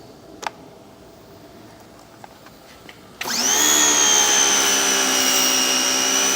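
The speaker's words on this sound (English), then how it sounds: "I use this on stream to blow off the leaves and dirt and stuff like that on my concrete here." An AR Blue Clean electric pressure washer on its stream nozzle setting starts abruptly after a few seconds of quiet, then holds a loud, steady high-pitched motor whine with a hissing spray to the end.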